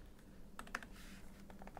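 Keys are typed on the keyboard of a Lenovo Xiaoxin Pro 13 (2020 Ryzen edition) laptop: a brief, quiet cluster of a few soft clicks, close up, with no voices.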